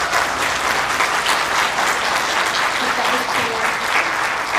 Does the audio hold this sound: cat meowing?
no